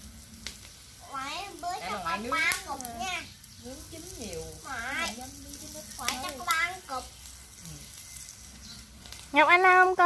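Clams grill with scallion oil, giving a soft, constant sizzle in the background while someone talks over it for most of the time.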